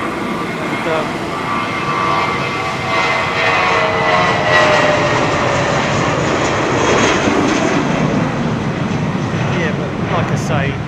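A fixed-wing airliner departing London Heathrow Airport on a wet evening, a loud sustained engine roar with rumbling layers building steadily, while someone talks over it.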